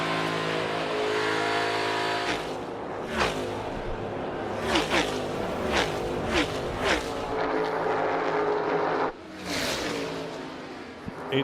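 NASCAR race cars at Auto Club Speedway roar in a dense, continuous engine drone, with several louder cars sweeping past in quick surges, heard as a race broadcast under faint commentary.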